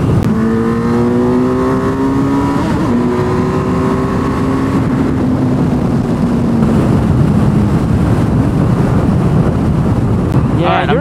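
Suzuki Hayabusa motorcycle accelerating hard, the engine wailing steadily upward through a gear change under heavy wind roar, loud and close throughout.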